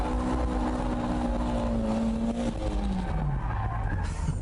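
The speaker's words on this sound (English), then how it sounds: "With these underpowered cars, you just have to keep the gas on to get it into power drift mode." Underpowered cars power-drifting sideways with the throttle held down, a loud sustained tire squeal over a steady engine drone, the squeal pitch wavering and sliding downward near the end.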